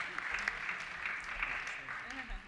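Quiet clapping from wedding guests as the ring bearers come forward, a light, scattered patter mixed with soft voices talking nearby.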